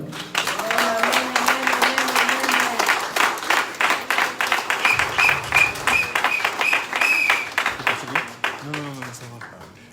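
A church congregation at a wedding claps loudly and rhythmically in unison, steady beats filling the room, while voices sing and call out over the clapping.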